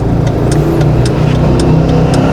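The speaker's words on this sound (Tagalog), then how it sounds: "nagbabibrate tuwing gumagana yung aircon" Idling engine of a Hyundai Eon car with the air conditioning running, a loud, close, steady rumble with a faint regular pulsing throb that suggests vibration.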